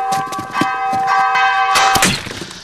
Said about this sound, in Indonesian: suara lonceng di gereja ini sudah disetel otomatis.